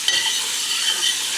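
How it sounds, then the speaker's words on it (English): Butter sizzles steadily in a hot pan, a continuous bright hiss with faint crackle close by and no voices, as it heads toward browning before vegetables go in. "now that that's sizzling, just want to bring that butter all the way"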